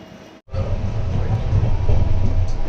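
Engine of the Kirandul Express, train 18551, moving out from Kottavalsa toward Visakhapatnam: a steady, heavy low rumble that drops out for a moment, then returns and holds loud and continuous.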